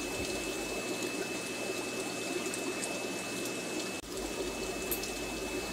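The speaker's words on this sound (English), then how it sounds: "I still have a little overflow going on." Water flows steadily through a PVC sump overflow into aquarium tanks, a constant close trickle and gush with a faint steady tone from equipment and a brief dip near the end.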